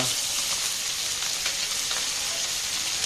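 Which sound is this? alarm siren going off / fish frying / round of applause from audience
fish frying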